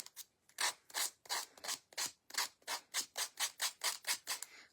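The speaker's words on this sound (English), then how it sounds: "I can't see what I'm sanding." Rhythmic back-and-forth strokes of sandpaper on wood, about fourteen even rasping passes in quick succession, close and clear with no talking.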